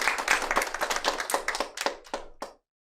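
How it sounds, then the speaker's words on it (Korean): Audience clapping at a Korean corporate presentation event, a dense burst of hand claps that thins into a few scattered claps before stopping abruptly at about two and a half seconds. "박수 부탁드리겠습니다."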